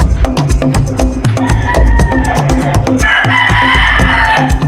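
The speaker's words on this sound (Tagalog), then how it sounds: "Ito mga boss, ito yung kulungan ng mga pulit nila" Gamefowl chickens and pullets in breeding pens at a gamefarm in Lipa, Batangas cluck loudly and repeatedly close by, with a rooster crowing over the busy, rhythmic calls.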